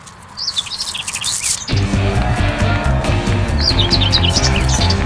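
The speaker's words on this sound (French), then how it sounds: "il y a un oiseau qui se paye ma tête là-haut." Small birds chirp and tweet overhead in a burst of quick repeated calls, then fall quiet and return in further chirps over a steadier outdoor background of rustling and low traffic rumble.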